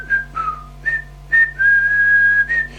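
A person whistles a tune in several clear notes, ending on one long held tone, over a faint low hum.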